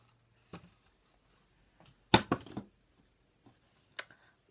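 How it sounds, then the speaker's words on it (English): Dice rolled during a drawing game: a sharp clatter of several quick hard knocks in the middle, with a few lighter isolated taps before and after, close and fairly quiet. "you're going to take your dice, and you're going to roll it."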